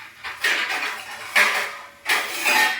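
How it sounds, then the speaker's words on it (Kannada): Metal pan lid and cookware clatter over a bitter gourd stir-fry, a few sharp clanks and scrapes in close succession, with a distinct louder knock near the middle and another burst toward the end. "ನಾನು ಮುಚ್ಚಳ ಮುಚ್ಚಿ ಒಂದು"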